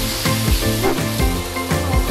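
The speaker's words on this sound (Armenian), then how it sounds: "լոլիկով պյուրեն թող եփի, իսկ մենք հիմա հավը տապակենք։" Marinated chicken pieces sizzle loudly in a frying pan, a close, bright crackle with rhythmic pulses as pieces settle and are stirred.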